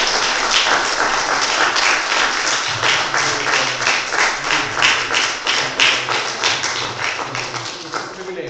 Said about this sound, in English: Now you can all clap.